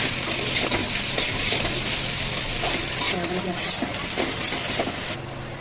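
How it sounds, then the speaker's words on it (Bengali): Onions fry in hot oil in a wok while being stirred, a continuous close sizzle broken by repeated scraping stir strokes; a few faint background sounds sit underneath. "পেঁয়াজটা একটু নেড়ে নেবো।"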